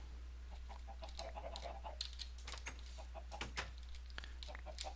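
Faint chicken clucks come from the video game Solitary Craft 7, soft scattered calls over a constant low electrical hum with a few light clicks mixed in.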